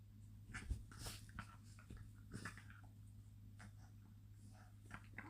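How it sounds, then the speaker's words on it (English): Small freshly groomed dogs tussle on a lap, with faint snuffles, panting and light scuffling thumps, close and quiet, no talking. "The dogs are wrestling on my lap."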